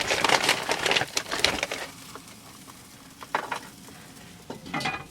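Potatoes cut as french fries sizzle and crackle in a big fry pan as home fries, with bursts of stirring and scraping in the first two seconds, a quieter steady frying hiss, then more stirring near the end.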